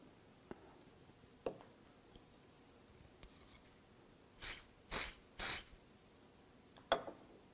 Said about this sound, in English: we'll head back into the spray booth to apply the second round of polyester